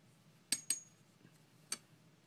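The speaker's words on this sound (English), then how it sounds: "This one I'm actually going to use my little spoon that I got here." A small spoon scoops dried marjoram from a container, giving three light, quick metallic clinks in a quiet room, two close together and one a moment later.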